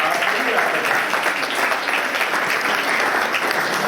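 A church congregation at a Sunday service claps together in dense, steady applause with a lively crowd murmur beneath it, close and full throughout.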